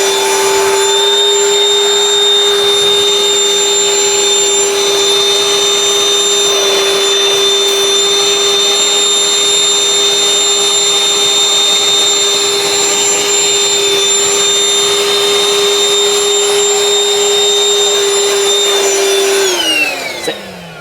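Ryobi 18V cordless vacuum cleaner running steadily at close range with a constant high-pitched motor whine, then powering down and winding off at the very end.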